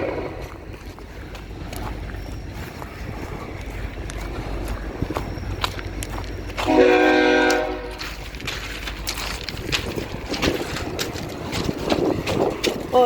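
A CN freight train engine rumbles nearby, and about halfway through a loud train horn sounds for roughly a second before the low rumble continues.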